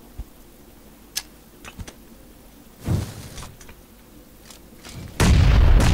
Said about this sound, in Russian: Я гранат кидаю.